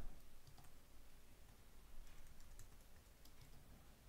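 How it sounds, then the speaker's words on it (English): Faint, rapid clicking of keys on a computer keyboard, irregular bursts of typing against a soft background hiss. "I'm typing this down and then you'll see it in a minute"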